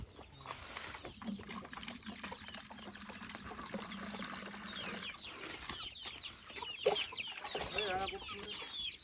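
Chickens cluck softly and intermittently nearby, over a faint background trickle of water.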